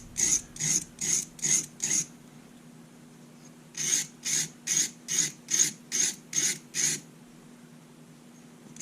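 A paring knife is sharpened on a stone, two runs of rhythmic scraping strokes: five quick rasps, a pause of about two seconds, then eight more, close and crisp with no talking.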